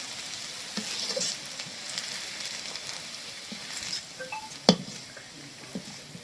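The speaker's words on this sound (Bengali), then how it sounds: "ভাইজে নিলাম পেঁয়াজ, পেঁয়াজগুলি একদম মশমশা করে ভাজবো না" Onions frying in a pan for chepa shutki, a steady close sizzle with occasional stirring scrapes and clicks and one sharp utensil knock near the end, no voices.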